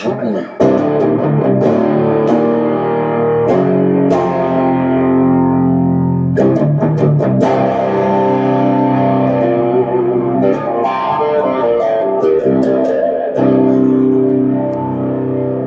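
An electric guitar played through crunchy overdrive rings out in strummed chords and short riffs, loud and gritty, with brief pauses between phrases.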